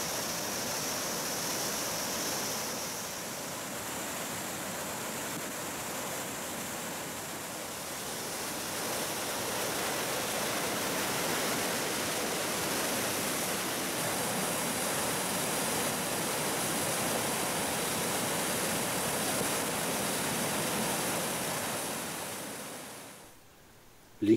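The Torneresse river in the Pays-d'Enhaut runs at high volume, a dense, steady rush of water that stays loud and close for over twenty seconds with no voices before cutting off.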